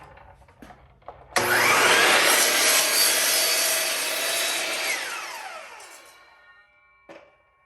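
A miter saw spins up with a loud whine and cuts through a piece of wood, the blade noise holding steady during the cut and then winding down, with a light knock afterward.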